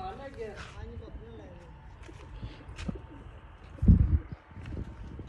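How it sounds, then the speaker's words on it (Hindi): Domestic pigeons kept at a rural farmstead cooing in soft repeated throaty calls, with a louder flutter or thump near the end and people talking nearby. "अच्छा ये इधर माज ने कबूतर भी रखे हुए हैं"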